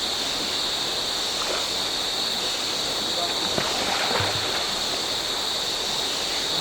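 A jungle river in Sabah, Borneo, flows with a constant, loud broadband rush, accompanied by a steady high insect-like hiss.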